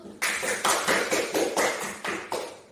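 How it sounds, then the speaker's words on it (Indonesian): Applause from a classroom of students during a physics lesson, about eight or nine sharp rhythmic clap-like bursts in a steady beat, close and without talk. "Kita beri aplaus dulu ya kepada Umul"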